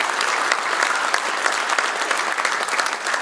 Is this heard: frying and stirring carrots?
no